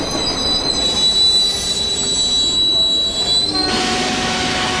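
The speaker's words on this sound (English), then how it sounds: "The emergency brakes activate and the train comes to a halt." A Mumbai commuter train's emergency brakes screech in a loud, sustained high squeal over heavy rumbling rail noise as the train comes to a halt, with the grinding rising sharply near the end.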